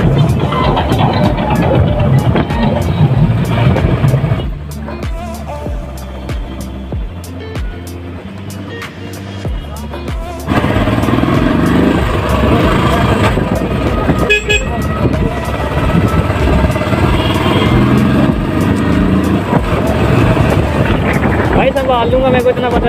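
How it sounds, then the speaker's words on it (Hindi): A Bullet motorcycle hums steadily while being ridden on the road, its engine drone mixing with wind buffeting and traffic noise, including a car horn tooting nearby, with a rider talking over the ride. "भाई आज बुलेट चला रहा हूँ"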